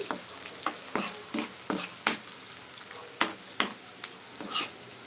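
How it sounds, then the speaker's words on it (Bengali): Onions fry in half a cup of oil for chicken bhuna, a soft continuous sizzle broken by repeated sharp scraping stirs of a spoon against the pan, close up. "হাফ কাপ পরিমাণ তেলের মধ্যে পেঁয়াজ দিয়ে নিয়েছি"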